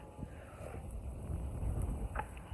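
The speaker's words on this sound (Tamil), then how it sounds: "காற்று இந்த மாதிரி காற்று அடிக்குது" Wind buffeting an outdoor garden of potted chilli plants, a continuous rough low rush with gusty swells and soft rustling, close and moderately loud, no talk.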